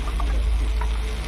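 Taro and fish sizzle in a frying pan while being stirred, a close, steady crackling fry with soft scraping movements and no talking.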